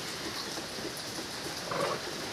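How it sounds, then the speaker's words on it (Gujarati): Steady monsoon rain pours continuously outdoors near a cattle shelter, a soft even hiss at moderate distance with no breaks, alone and without talk. "અને વરસાદ એક ધારો વરસાદ જ આવ્યા કરે છે."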